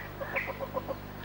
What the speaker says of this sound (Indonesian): Ini ayam saya si Berombon.